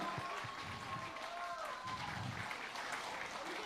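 Audience applause for Allu Arjun at a Pushpa 2 event, steady broadband clapping throughout with a few low thumps and scattered voices mixed in at moderate distance.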